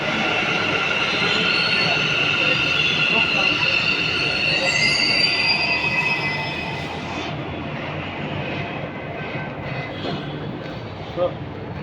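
A metro train pulls into the station with a loud, steady rumble of wheels on rail and high metallic squealing tones. The noise eases after about six seconds as the train slows, and there is faint background chatter.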